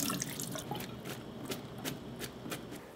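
Water splashes and drips steadily into a sink as cooking water is drained from noodles, with scattered sharper drops over a continuous wash of flowing water.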